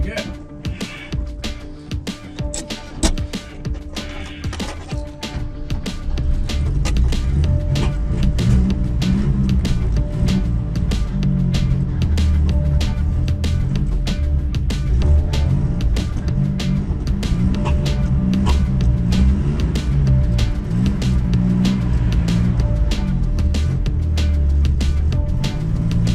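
A rare barn-find BMW driven on the road for the first time in over 30 years, its engine droning low and rough at steady speed with mechanical rattle, after a quieter start where people talk over it.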